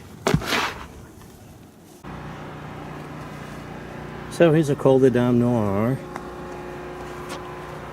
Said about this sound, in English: Sorry for the lawnmower. It's springtime,